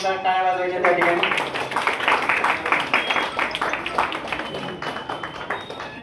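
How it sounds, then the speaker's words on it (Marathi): Applause from a seated audience at a Marathi book launch ceremony, dense rapid clapping that builds quickly and holds steady, with a voice briefly audible at the start. "सर्वांनी जोरदार टाळ्या वाजवायच्या त्या ठिकाणी"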